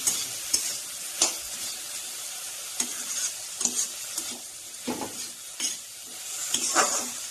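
Taro (mankochu) curry, Assamese style, stirred in a pan: irregular scrapes and knocks of the spoon over a steady sizzle of frying, fairly close and with no voices.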